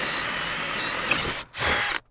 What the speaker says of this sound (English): Next thing I do, I drill a hole through the wood.